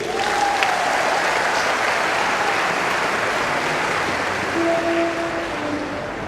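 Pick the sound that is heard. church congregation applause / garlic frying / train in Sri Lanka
church congregation applause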